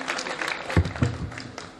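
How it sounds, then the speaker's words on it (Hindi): An audience at a Hindi comic poetry gathering claps in a short, moderately loud burst of applause with scattered louder claps. "एक बार ताली बजाकर मुझे आदेश दे"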